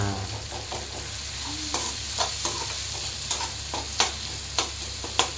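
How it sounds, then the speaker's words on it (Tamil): Homemade kothu parotta chopped and fried on a pan, a continuous sizzle under a run of sharp, regular metallic clanks from chopping and stirring, close and fairly loud with no talk. "நல்லா கொத்தி விட்டுட்டு ஃப்ரை ஆகட்டும். நல்லா ஃப்ரை ஆயிடுச்சு"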